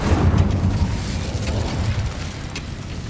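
Incendio fire spell bursting out in Hogwarts Legacy: a loud, rumbling whoosh of flame with a crackling roar that holds steady, then fades slightly.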